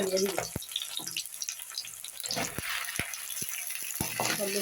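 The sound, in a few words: okra frying in a pan with onions and chillies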